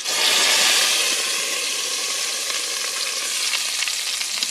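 Bacon frying in a pan, slightly overcooked and starting to burn and char, a loud, dense, continuous crackling sizzle that holds steady throughout with no talking.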